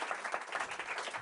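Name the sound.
round of applause for panel members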